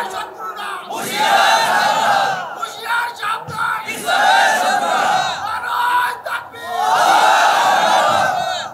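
A large crowd at a Muslim religious gathering roars slogans in unison, three loud swelling chant waves with short dips between, voices massed and near.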